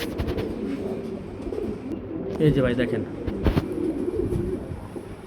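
Pigeons at a pigeon farm coo in soft, low murmurs close by while someone talks over them, with a few brief rustles in the background.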